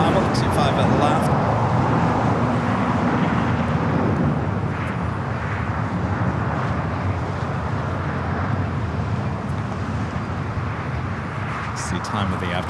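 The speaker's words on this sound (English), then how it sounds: "Dreamliner up next for Bravo, 25 at the left" A Boeing 787 Dreamliner airliner at LAX, a continuous broad jet rumble at moderate level that slowly fades, with voices talking over it.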